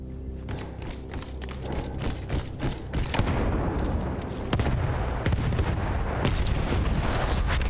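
In a World War I battle in Battlefield 1, loud booming blasts and heavy gunfire rumble continuously. Several sharp impacts and explosions stand out over dense, roaring battlefield noise throughout.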